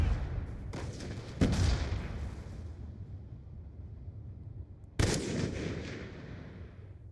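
Explosions and gunfire in a multiplayer shooter video game: two sharp blasts a few seconds apart, each followed by a rumbling decay, with scattered shots between.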